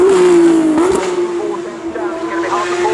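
A race car at the Goodwood Festival of Speed shootout, driven hard uphill toward the finish line, holds a loud, continuous engine note that dips briefly in pitch and then sustains at full throttle.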